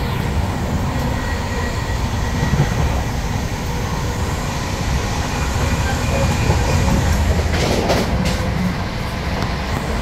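A Humsafar Express passenger train runs at about 130 km/h, heard from inside a coach as a steady, loud rumble with rhythmic wheel clatter. Brief rattles come near the end.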